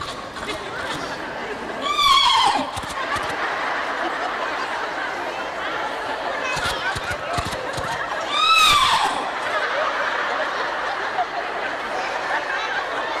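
A man imitating a horse's neigh twice with his voice, shrill whinnying calls several seconds apart over a noisy room with background chatter.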